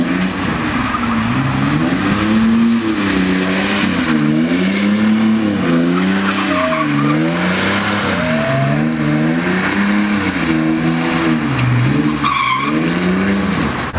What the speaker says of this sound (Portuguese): Não é um carro de drift e ela faz drift muito bem.